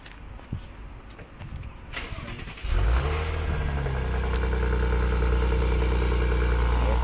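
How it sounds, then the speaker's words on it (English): A Maserati that has just had brake work starts up for a test drive: quiet shuffling, then the engine catches and settles into a loud, steady idle close by. "We're gonna take it on a test drive and make sure everything good."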